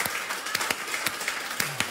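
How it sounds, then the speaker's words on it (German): A studio audience at a TV show claps in a brief burst of applause, a dense patter of many hands at moderate volume. "Applaus!"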